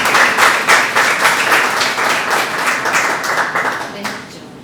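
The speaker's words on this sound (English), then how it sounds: "everybody gives a round of applause for our wonderful host here at Uva" An audience at a wine bar applauds after a poem reading, a brisk burst of many hands clapping that fades out toward the end, with voices faintly mixed in.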